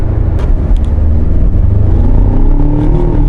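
A 2019 Ford Ranger Lariat pickup revs under acceleration, its engine rumble climbing in pitch. The sound is loud, close and continuous, with light clatter and no talking.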